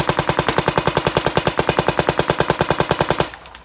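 A DYE DM14 paintball marker fires a rapid, steady string of about thirty loud, close, evenly spaced pops, then stops abruptly, leaving a short quiet tail.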